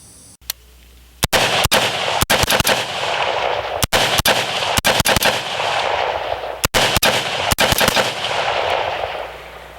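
Fifteen rifle shots from a 14.5-inch AR-type rifle fitted with a flash hider, firing mixed 55-grain, 75-grain hollow point and 62-grain M855 rounds outdoors: loud sharp cracks at irregular intervals, each followed by echoing reverberation.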